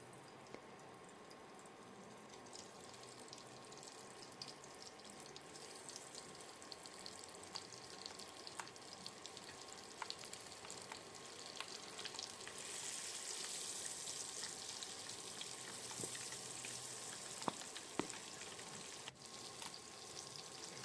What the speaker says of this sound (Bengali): দিয়ে ডিমগুলো ভেজে নেবো